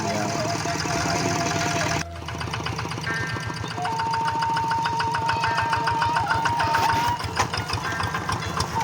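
A tractor engine runs in a rice paddy during soil levelling, a close, loud, rapid mechanical chugging that continues steadily and strengthens a little after a brief dip.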